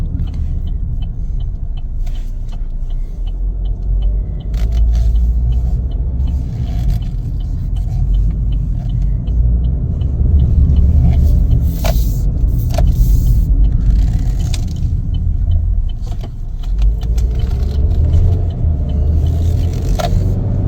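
A 2023 Chevrolet Equinox LT AWD driving and accelerating, a steady loud cabin rumble of engine and road noise with a few brief clicks and scrapes, no voices.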